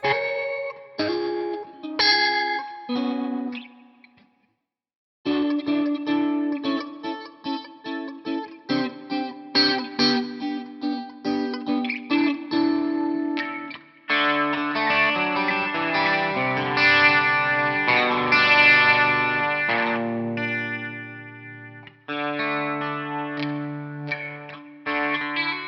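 Electric guitar played through heavy effects on a Line 6 HX Stomp amp modeler preset, chorus-like shimmer and distortion, with picked notes, a brief pause, then sustained overdriven chords.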